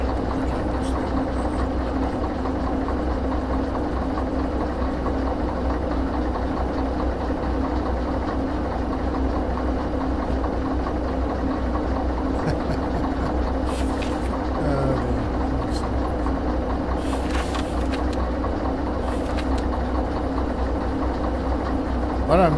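A diesel locomotive in Derail Valley idles and rumbles steadily, its deep engine drone continuous throughout with faint mechanical clanks on top and someone talking intermittently.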